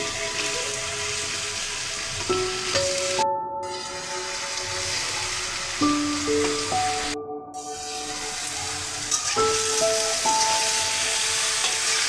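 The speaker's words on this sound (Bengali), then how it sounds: "কিছুক্ষণ ভেজে নিয়ে এখন চামড়া আর পাগুলো ওর মাঝে দিয়ে দেব।" Chicken skin and feet fry in a pan with ginger paste, giving a steady, close sizzle and hiss under soft background music.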